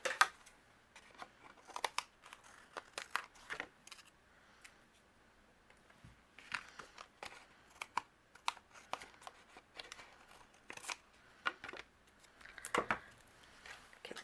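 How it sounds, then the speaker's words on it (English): Sparse, quiet snips and crisp cuts of scissors through paper, irregular clusters of short clicks with pauses between, no talking. "Whatever's overhanging I'm going to trim off with my scissors."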